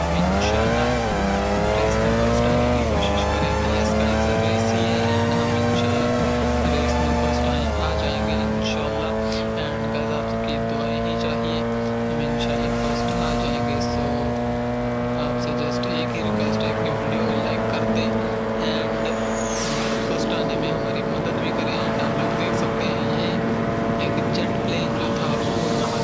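Rally cars race in the desert sprint of the Forza Horizon rally video game, with loud, continuous engine roar that shifts pitch through gear changes and acceleration and runs throughout, with someone talking over it.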